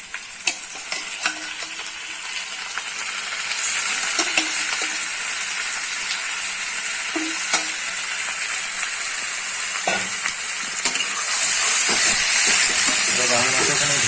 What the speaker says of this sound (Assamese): গাহৰি মাংসখিনি ধুনীয়াকৈ ভাজিব লাগিব